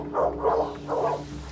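A dog barks three times in quick succession, mid-pitched and fairly close, over a low steady hum.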